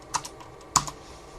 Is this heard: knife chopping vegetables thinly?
no